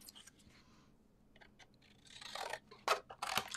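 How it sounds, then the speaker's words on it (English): A few crisp snips of scissors cutting through paper, close by, growing louder toward the end after a quiet start. "I'm just going to cut it with my scissors."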